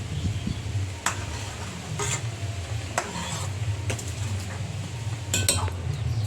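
A spoon works through milk in a pot as sugar is stirred in, with occasional sharp clinks against the metal side over a low steady background hum.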